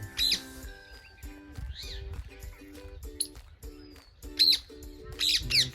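Birds call and chirp in a tree while pecking at a yellow snake that has climbed the branches, bright scattered tweets and squawks over a low rumbling background, fairly close.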